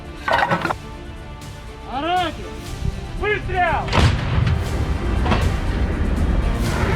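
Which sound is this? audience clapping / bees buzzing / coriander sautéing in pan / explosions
explosions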